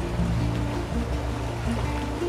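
Sitting Bull Falls' steady rushing water roars continuously, a dense splashing wash like a nearby waterfall, with no voices.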